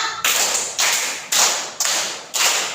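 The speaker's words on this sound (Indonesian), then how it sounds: "Tepuk 1, tepuk 2" A class of children claps hands in unison, five loud, crisp, evenly timed group claps in a steady rhythm, each burst fading slightly before the next, no talking heard.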